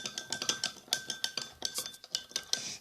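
Homemade slime of dish soap and salt is stirred in a container with a utensil, giving a quick regular series of close, light scraping clicks and wet tapping strokes.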